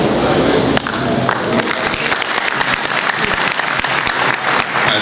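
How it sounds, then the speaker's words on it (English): Sustained applause from a lecture audience at a university inaugural lecture, dense clapping filling the hall steadily throughout after an initial louder burst. "I thought that deserved an applause."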